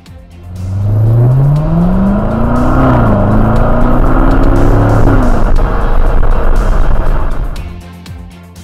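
A 2017 Corvette Grand Sport accelerates hard on a road, its engine rising through the gears with a loud, close roar, then holding a strong drone before fading away.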